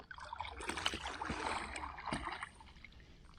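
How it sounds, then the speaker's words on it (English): Oars working a small rowing boat on tidal water, with soft watery splashes and strokes close by over steady broadband wash, fading somewhat toward the end. "I'm going to row because it's really nice"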